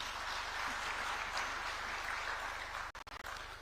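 A conference audience at a mining investment expo in Nairobi applauds, steady dense clapping heard from the room at moderate distance under a low electrical hum, ending with a few brief dropouts.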